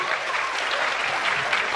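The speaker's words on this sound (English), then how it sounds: "Please give a big round of applause for our speakers and our moderators." A campus event audience gives a sustained round of applause for the speakers and moderators, the clapping thick, continuous and fairly loud throughout the short stretch.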